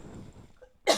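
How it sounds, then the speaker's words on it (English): After a moment of low murmuring background, a single sharp cough bursts out near the end, close and loud. "Oh my God, I think I'm going to cough."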